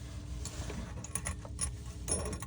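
A screw on a glass rinser's bottom gasket and spacer is turned tight during a kitchen install, giving faint close ratcheting clicks and small metallic ticks in short irregular bursts.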